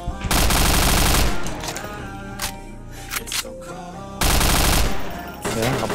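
Automatic MP7 submachine gun bursts in the online shooter Point Blank Indonesia, loud and dense rapid fire in long strings with brief pauses, heavy close-up gunfire filling the scene.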